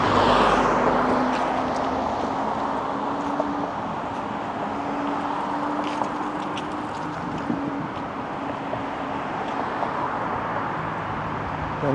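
Car driving past on a city road, a loud whoosh at first fading into steady traffic rumble and roadway noise, with faint clicks over the continuous hum.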